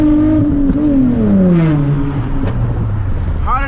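A tuned Infiniti G35 coupe accelerates hard, its loud close engine note rising in pitch through a pull, then dropping at a shift before climbing again.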